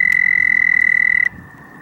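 A toad near a marshy lake beach gives a loud, sustained high trill that stops abruptly, leaving quiet background outdoors.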